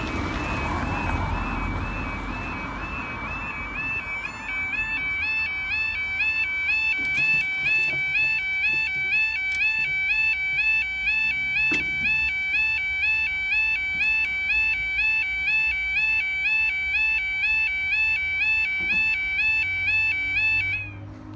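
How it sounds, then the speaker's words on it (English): Railway level crossing alarm near Grimsby on the Trans-Pennine Express line, a loud, close warbling electronic tone repeating steadily and without a break for about twenty seconds before cutting off, with faint traffic rumble beneath. "You probably heard that alarm quite well."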